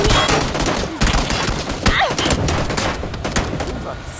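Dense, loud gunfire rattles nonstop in PUBG as shots hit a car's tire, rapid bursts overlapping into a continuous fusillade, with voices talking under the shooting.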